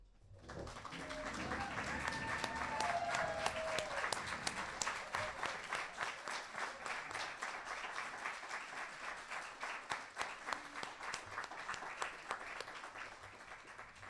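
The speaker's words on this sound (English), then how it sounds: "we want to actually give them a round of applause too" Internal medicine residency graduates are applauded at a graduation ceremony; clapping swells in over the first seconds, then continues as a steady, moderately loud round before gradually thinning.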